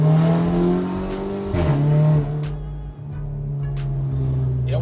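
Golf GTI with a Ragazzon exhaust line and twin tailpipes revving hard nearby, a sharp climb in pitch then settling to a steady throaty idle, with crackles from the exhaust.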